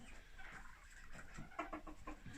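Hens cluck in short, irregular bursts at close range, with a few sharper calls near the end over a steady low background hum.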